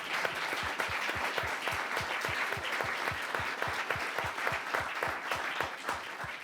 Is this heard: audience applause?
yes